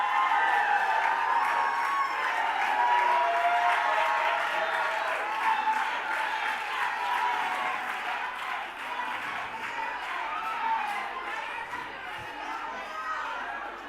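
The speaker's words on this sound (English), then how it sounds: "Keep cheering on your champion." An audience at a mental health forum cheers and applauds for a champion, a steady wash of clapping and voices with scattered whoops, loud at first and easing slightly toward the end.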